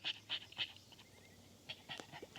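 A dog pants in short, rhythmic bursts in summer heat, close but fairly soft outdoors beside a lawnmower.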